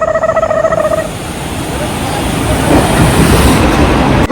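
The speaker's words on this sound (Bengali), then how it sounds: "এখন ক্ষমাজয়ন্তী করতে করতে আমাদের ট্রেন এই ঢুকছে" A passenger train pulling into a station, its rumble and rattling wheels swelling louder and nearer, after a brief electronic tone at the start.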